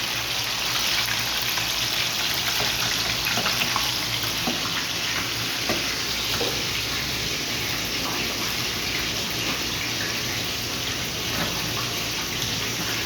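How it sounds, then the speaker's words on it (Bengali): Kebab mixture frying in hot oil, a continuous loud bright sizzle and crackle that holds steady from start to finish with no talking. "এটা প্লেটের মাধ্যমে আপনার মিক্স করে তেলে ছাড়তে হয় দেখে রাখেন।"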